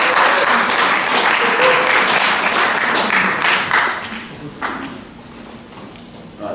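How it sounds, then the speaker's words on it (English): An audience applauds after a grand round presentation, loud, dense clapping for several seconds that thins and fades toward the end, with a few scattered claps remaining. "Let's give Dita a round of applause."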